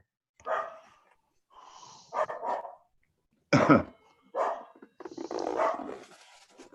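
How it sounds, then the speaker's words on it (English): A dog barks several times in a room, gruff, fairly close barks in separate bursts with pauses between them. "Dog's barking."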